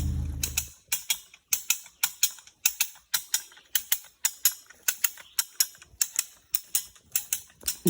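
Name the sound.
Wyeth Scott come-along cable puller ratcheting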